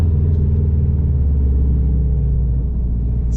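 A 2005 Subaru STI with a COBB 20G turbo drives steadily, its engine giving a continuous low rumbling drone heard from inside the cabin, with no talking.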